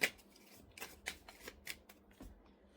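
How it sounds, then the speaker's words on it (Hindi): Tarot cards are shuffled by hand, quiet and close, with a series of soft riffling snaps and slides spaced through a few seconds. "मैं यहाँ पर कुछ कार्ड्स लूंगी, अपने पर्सन का तब तक आप नाम ले लीजिए जब तक मैं इसे शफल कर रही हूँ।"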